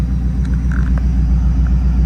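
A 1995 Chevrolet Camaro Z28 with an automatic transmission and 54,000 miles idles in a steady, deep, even rumble, close and fairly loud, with no one speaking.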